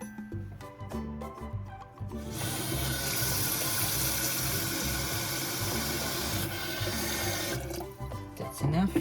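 Tap water runs and splashes into an open Ovente electric kettle, a steady rushing pour of several seconds that starts after a few clicks and handling sounds and stops near the end.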